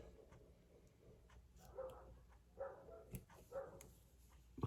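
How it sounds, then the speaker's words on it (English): Several big dogs bark outdoors at a distance, a few separate bursts of barking spread over a few seconds against a quiet background. "That sounds like dogs, bigger dogs outside."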